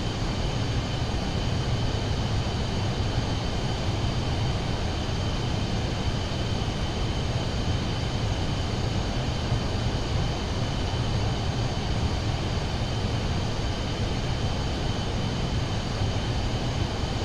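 Steady airplane engine drone at cruise in a flight simulator game, a constant broadband hum with a low rumble, continuous and unchanging throughout with no talking.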